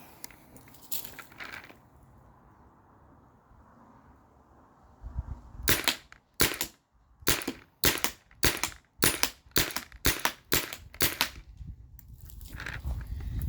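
A Spyder Rodeo paintball marker fires outdoors at a target about 35 feet away, a quiet wind-filled stretch followed by about ten sharp, loud shots in a quick, fairly even rhythm.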